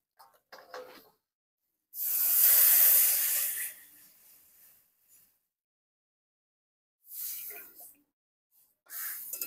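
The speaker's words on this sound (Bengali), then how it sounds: "এখন দিয়ে দেবো পরিমাণ মতো জল।" Water poured into a hot pan of spiced frying potatoes gives a loud burst of hissing steam that fades over about two seconds, followed later by a few shorter quieter hisses.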